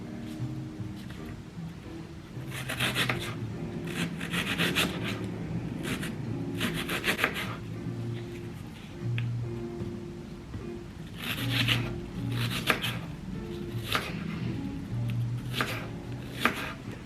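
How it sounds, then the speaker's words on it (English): A knife chops an onion on a home kitchen cutting board, irregular clusters of quick crisp cuts separated by brief pauses, close and fairly quiet with a faint low background hum. "My onion, about to cut it up."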